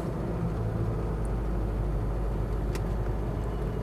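Road traffic in Bangkok rumbles steadily, a continuous low hum of passing cars and engines with a couple of brief high squeaks or horn-like blips.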